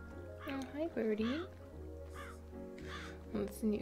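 A bird caws in the cozy cat-café video game Calico, a few harsh calls rising over a steady low background hum while a voice speaks.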